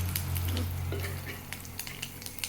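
Curry leaves frying and stirred in a pan for a jackfruit flower stir-fry, a steady close sizzle with scraping stirs and light clinks of the spoon against the pan, no talk.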